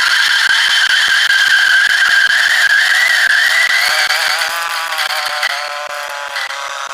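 A G64 variable-speed 64mm flat burr coffee grinder with an aluminum dosing cup, grinding at setting 5. It gives a loud, steady, high-pitched whine with a fine gritty texture that eases slightly toward the end.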